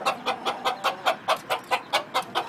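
Pure leaper gamecock rooster clucking in a fast, even series of about a dozen short sharp clucks, close and moderately loud with no talk over it.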